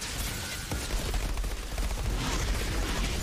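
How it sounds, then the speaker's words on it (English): Blind fire in a video game: dense, rapid bursts of gunfire crackle almost continuously, fairly loud, with no voices over them. "I'm just blind firing"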